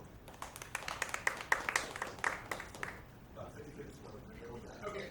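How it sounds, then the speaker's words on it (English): Scattered audience applause breaks out at a student improv comedy showcase, crisp claps for the first few seconds before tapering into murmuring voices and faint talk. "How many of you, by applause, have been to an Improv show before?"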